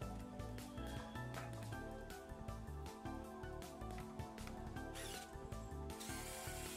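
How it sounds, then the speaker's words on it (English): A small automatic electric screwdriver backs screws out of a DIY wireless mechanical keyboard, giving a close, steady whirring ratchet with short pauses between screws and a brief change in pitch near the end. "And then removing the screws with my little automatic screwdriver thingo."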